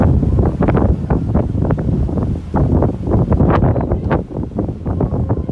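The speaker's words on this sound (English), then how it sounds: "We got a pretty good northerly breeze here today." Loud northerly wind on the water during a whale and dolphin watch buffets the microphone in uneven gusts and thumps, rough and close, with no voices.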